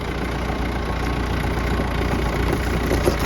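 A Yanmar FX285 tractor engine runs steadily at close range while the machine turns, giving a continuous loud mid-to-low drone with a slight knocking texture and no speech.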